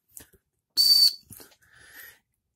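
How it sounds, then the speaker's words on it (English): ABS plastic whistle molded into a full-tang knife handle, blown once in a short, shrill, loud blast, followed by a couple of softer, fainter toots close to the mic. "you can blow into the handle there and it'll blow like a whistle"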